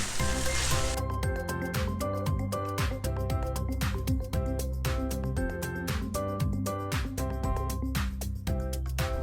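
Vegetable masala Maggi noodles with tomato sauce and green chili sauce are stirred in a hot pan, giving a continuous close sizzle and frying hiss with scraping and clicking from the stirring. No talking.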